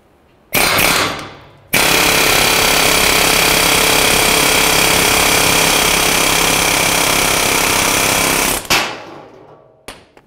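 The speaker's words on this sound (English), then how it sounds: "I'll use my air hammer." A pneumatic air hammer driving out a lower ball joint on a 2010-2013 Ford Transit Connect rattles in a short burst, then hammers continuously and loudly for about seven seconds before stopping, followed by a brief hiss.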